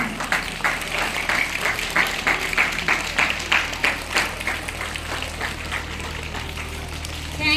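School audience at a Christmas celebration clapping hands as teachers are welcomed with bouquets; a moderately loud, fairly rhythmic patter of many hands, steady throughout over a low background hum.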